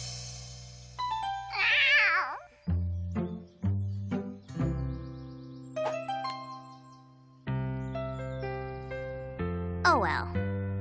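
A cartoon kitten gives two short, high, wavering meows, one early and one near the end, over gentle plucked musical notes in an animated show.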